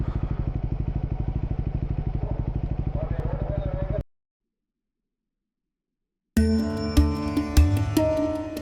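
A Triumph Scrambler 400X motorcycle idles steadily with a close, rapid regular engine pulse for about four seconds. Then it cuts to silence and is followed by a clattery, metallic scene.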